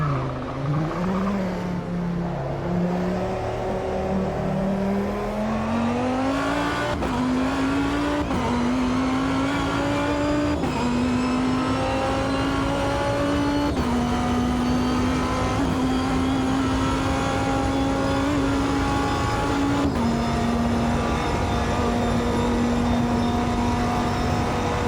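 Race car engine in a racing video game played with a Simagic Alpha EVO Pro wheel: a loud, sustained engine drone that climbs steadily through the gears with brief dips at each shift, and no talking.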